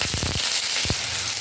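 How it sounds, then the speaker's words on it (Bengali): Onion and green chili dropped into hot oil, a bright crackling sizzle flaring at the start and again near the end over a constant frying hiss, close and fairly loud. "তেলটা গরম হয়ে গেছে, এখন আমি পেঁয়াজ আর কাঁচা লঙ্কাটা দিয়ে দিচ্ছি।"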